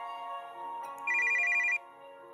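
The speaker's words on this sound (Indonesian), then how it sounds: "ada telepon lagi" A phone rings in the RPG Legends of Crystal: a bright electronic ringtone with a short trilling burst over steady game background music, with no talk.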